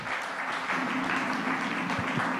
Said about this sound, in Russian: Похлопаем автору.